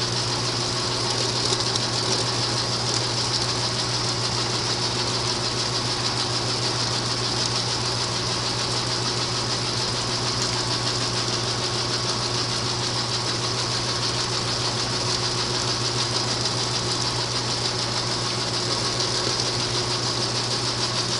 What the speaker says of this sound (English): The washer seems to be slightly off balance.